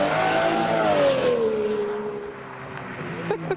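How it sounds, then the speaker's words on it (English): A Pagani Zonda fitted with a BMW body kit revs loudly and close at a photoshoot, its engine note holding high then sliding downward as it moves off, with a brief clatter near the end. "Here comes the Zonda with the BMW body kit."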